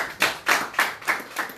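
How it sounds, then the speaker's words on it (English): Audience applause at a press freedom day event, five evenly spaced bursts of clapping, like slow rhythmic collective claps, fairly close and clear with no talk over them. "a round of applause for him"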